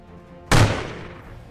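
One sharp gunshot rings out in a Warhammer Quest video game, a sudden loud crack followed by a decaying echoing tail, after a quiet moment.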